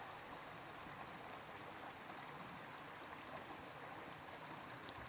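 A flowing stream trickles steadily as a soft, even wash of water noise, faint and continuous, with no voices over it.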